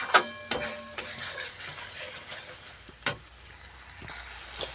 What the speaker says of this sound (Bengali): মশলাটা এইভাবে ভাজতে হবে ভালো করে